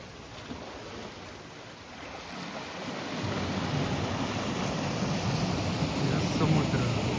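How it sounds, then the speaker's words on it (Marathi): Sea waves wash in through rocks into a natural rock pool on the Konkan coast, a steady close rush of surf that swells louder partway through, with wind noise and no talking. "या समुद्राचं पाणी असं आतमध्ये येतं त्या खडकाच्या मधनं"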